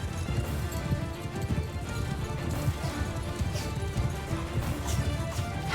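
Cavalry horses galloping in a Mount and Blade Bannerlord battle, with dense, overlapping clip-clop hoofbeats and the clatter of a mounted charge running continuously at close range, with a faint whinny mixed in.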